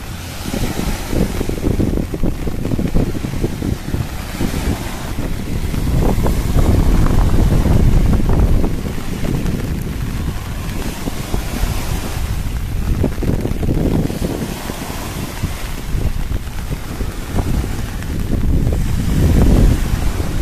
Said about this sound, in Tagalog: kahit malakas na yung bagyo, yung ano hangin